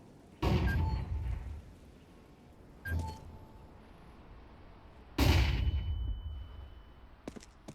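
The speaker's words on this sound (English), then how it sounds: "Flashbang out." Flashbang grenades detonate in a first-person shooter game, giving three sharp bangs with ringing tails, the last the loudest, spaced a few seconds apart over a low background hum.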